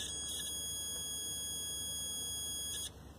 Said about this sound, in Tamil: இந்த பீப் சவுண்ட் வந்ததுன்னா இந்த மல்டிமீட்டர் வந்து ஓகே அப்படின்னு சொல்லி அர்த்தம்